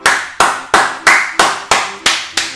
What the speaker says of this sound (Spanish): Aplaudite, Seba.